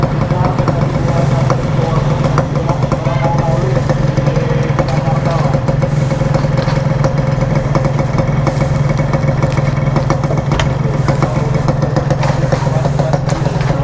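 A Yamaha RX King two-stroke motorcycle idles with its engine still cold, a steady close, loud throbbing burble with light mechanical clatter, while people talk nearby.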